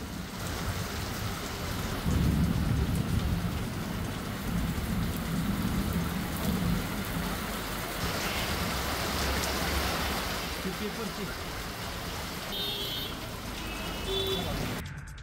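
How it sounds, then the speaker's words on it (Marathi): Heavy rain falling steadily with rumbling thunder during a sudden unseasonal storm in Maval, a dense continuous downpour with low rolling thunder building, loud and close throughout. "मावळमध्ये मेघगर्जनेसह पाऊस झाला"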